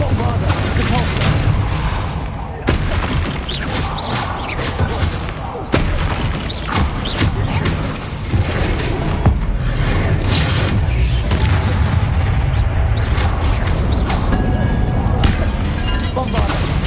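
Bombarda and Confringo explosion spells fire in a wizard video game, sharp whip-like cracks and booms repeating every few seconds over a loud, busy background.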